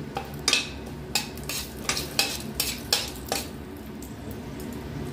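Bay leaves and whole garam masala are stirred in a hot pot of oil with a light sizzle, with repeated scraping and clinking of a metal spoon against the pan, close and alone.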